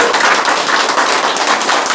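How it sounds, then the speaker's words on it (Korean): Party members and supporters applaud at a political press event, a close, loud and continuous round of clapping with individual claps audible in the dense texture. "저희들이 박수 한번 주시죠."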